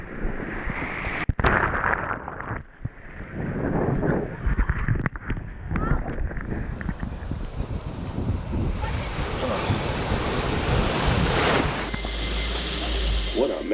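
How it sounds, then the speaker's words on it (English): Ocean surf breaks and washes at a Dominican Republic beach, a loud continuous rushing roar mixed with wind buffeting the microphone, with a person talking and whooping over the water. "It was time to catch some waves."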